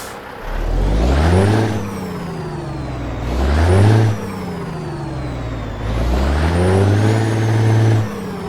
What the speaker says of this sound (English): it is powered by a 600 horsepower Cat C16 engine